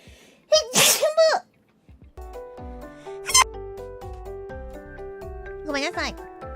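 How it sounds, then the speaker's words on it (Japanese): A young woman sneezes sharply and loudly up close. Soft tinkling, clinking sounds follow, and a second short burst comes near the end. "くしゃみは必ず2回目は出る。"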